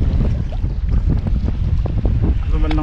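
Strong wind gusting across a small fishing boat on open water, a steady loud broadband roar with buffeting against the microphone throughout, faint voice traces underneath.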